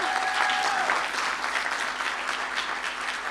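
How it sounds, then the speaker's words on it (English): Audience applause at a learning event after a call to honor a woman, a dense, steady round of clapping that fills the whole moment and fades slightly toward the end, with no speech over it. "please let's just clap for her"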